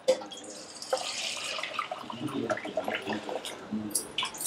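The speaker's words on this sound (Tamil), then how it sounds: "இப்போ இந்த வடிகட்டினதை எடுத்து இதில் ஊற்றிடலாம்." Strained herbal soup poured from a vessel into a cooking pot, a close, continuous watery splash and trickle lasting several seconds with small clinks.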